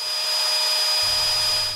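A CNC machine cuts 8mm aluminium plate at a slow feed rate of about 300 mm per minute. It gives a steady, loud whine with a sustained high tone and constant broadband noise, and a low hum joins partway through.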